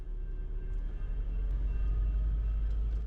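A large freight train rolls through a railroad crossing in Plover, Wisconsin, heard from a car waiting at the lowered gates: a steady, heavy low rumble with faint wheel and rail noise that stays constant throughout.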